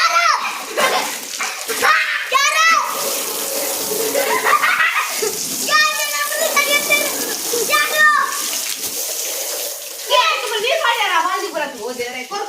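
Water splashes and pours while a vehicle is being washed, in uneven gushes and drips, with children and adults talking and calling out throughout.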